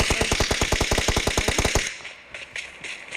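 Automatic gunfire in the mobile game PUBG Mobile: a rapid, loud burst of evenly spaced shots lasting nearly two seconds, followed by a few scattered, fainter shots.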